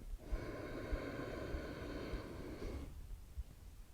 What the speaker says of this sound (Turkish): derin bir nefes alıyorum